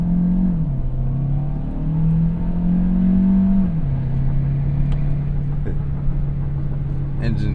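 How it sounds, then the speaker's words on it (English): The hybrid engine of a 2025 Kia Carnival minivan accelerates with a loud, buzzy drone close up, its pitch stepping up and dropping as it shifts gears. "Engine is a bit on the buzzy side."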